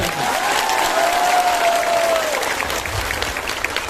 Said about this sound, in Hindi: ताली मारो इसके लिए भी